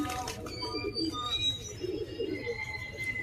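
A flock of racing pigeons coos softly and steadily nearby, low murmuring calls blending with faint background voices.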